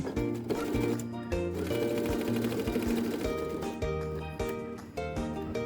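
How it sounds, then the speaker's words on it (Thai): A Brother M38 sewing machine stitches a zigzag seam along a fabric edge with steady, close mechanical whirring and rapid needle ticking that keeps going in short runs. "เริ่มเย็บให้จับหางได้ด้านหลังนิดนึงค่ะ แล้วก็ เย็บได้เลยค่ะ"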